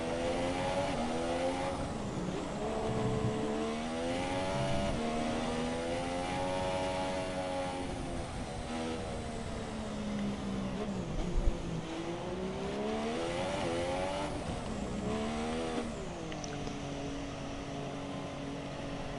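Race cars circling a track in the F1 2017 video game, engines droning steadily with rising and falling pitch as they pass, a continuous loud whine throughout with no voices.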